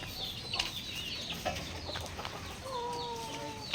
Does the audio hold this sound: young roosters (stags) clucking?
yes